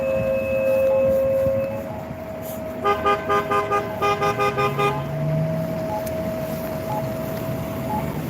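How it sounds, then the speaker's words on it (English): Car horns honk during a street protest in South Burlington, Vermont, where traffic is backed up near a busy mall. A long steady tone is followed by a run of about nine short, regular toots over a constant traffic hum. "Now some of that honking is also because traffic is backed up."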